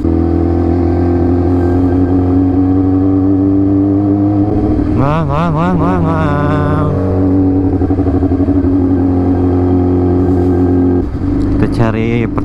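A motorcycle engine drones steadily at close range while riding through South Jakarta, with a voice talking over it and the pitch rising and falling in short revving bursts.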